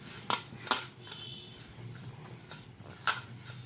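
A spoon stirs salt, garam masala, cumin, coriander and turmeric powders together in a dish, a soft scraping broken by a few sharp metallic clinks against the bowl, close and quiet.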